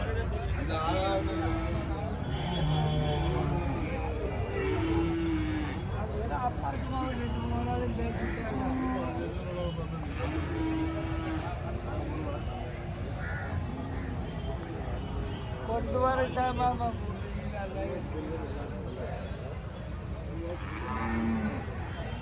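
Bulls moo repeatedly amid a busy outdoor crowd at the Pollachi cattle market, with people talking throughout and low calls rising over the steady din.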